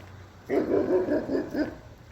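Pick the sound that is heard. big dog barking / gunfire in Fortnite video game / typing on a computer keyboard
big dog barking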